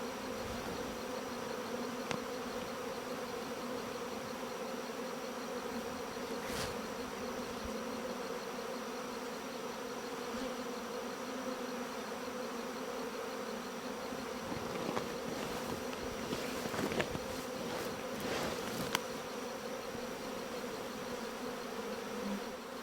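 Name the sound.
swarm of honey bees humming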